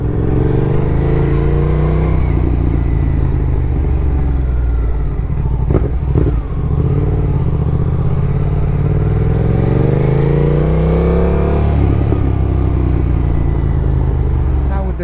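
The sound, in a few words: motorcycle with aftermarket full exhaust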